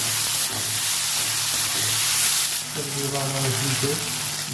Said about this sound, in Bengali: তেলটা ভালো করে গরম করে নিয়েছি, মাছগুলো দিয়ে দেবো।